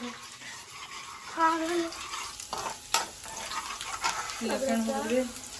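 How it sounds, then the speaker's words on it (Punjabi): A tadka tempering for Maggi sizzles briefly in a pan amid kitchen clatter, with voices talking over it at moderate loudness. "ਆ ਤੜਕਾ ਲਾਉਂਦੇ ਹਾਂ"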